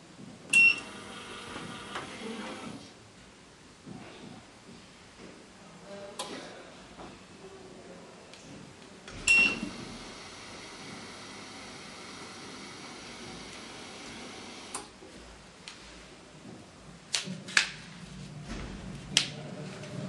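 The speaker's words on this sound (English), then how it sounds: "after hearing the beeping, press the bind button to have the machine finish the whole binding job." An HJ-50B document binding machine gives short electronic beeps among clicks, ticks and mechanical clatter as it drills and binds a stack of papers, the sounds near and intermittent over a quiet background.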